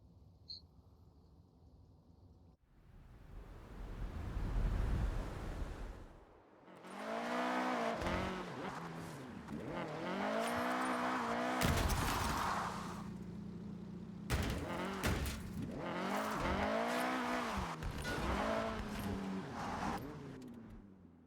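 Cars in the racing video game Forza Horizon during a winter season race: engines rev and rise in pitch through repeated gear shifts, a steady loud drone with sweeping accelerations and occasional sharper bursts, no talking.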